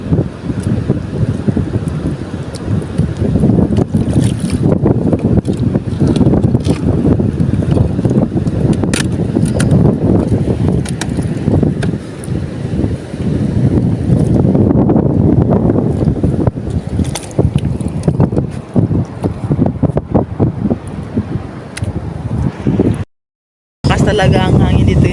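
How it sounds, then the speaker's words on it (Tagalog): Strong wind gusting by the sea, roaring steadily into the microphone with sea noise underneath, continuous and loud for most of the time before a brief dropout near the end; voices talk faintly under it. "Lakas talaga ang hangin dito yun."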